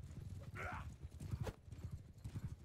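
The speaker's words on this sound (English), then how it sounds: "It's a catafract horse" Cataphract horse in Bannerlord online PvP battle, rapid clip-clop hoofbeats in a steady galloping rhythm with a brief whinny, moderately near and fairly quiet.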